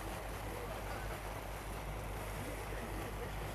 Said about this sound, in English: recognize the sound of the props underneath the boat